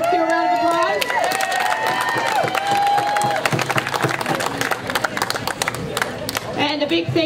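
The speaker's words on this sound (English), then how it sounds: "So let's give a round of applause." An audience claps and cheers at a 2009 mental health awareness celebration in Oregon. Dense applause swells after a stretch of voices and carries on loudly to the end.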